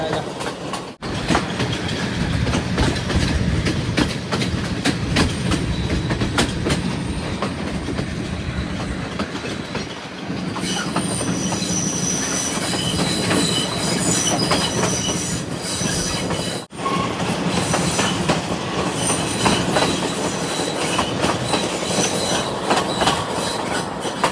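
Loud, continuous rumble of a train rolling along the tracks through tea plantations in Sri Lanka, with rhythmic clacking and occasional metallic wheel squeals, heard from on board an observation saloon.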